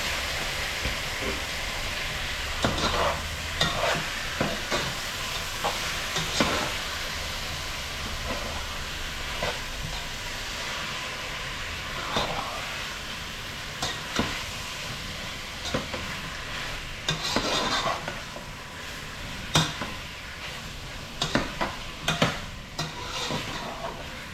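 Chicken wings stirred in a pot while cooking, with a steady sizzling hiss broken by repeated scraping stirs through the whole stretch. The sound is close and continuous, and there is no talking.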